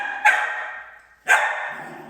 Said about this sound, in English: Bisbee is barking. At Jenny to get her to play.